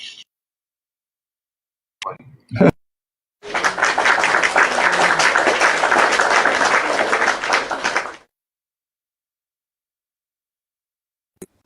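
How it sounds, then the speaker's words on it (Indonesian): Audience applause breaks out after a few brief scattered sounds, a dense burst of clapping lasting about five seconds at steady volume before stopping into silence. "Tepuk tangan Nor"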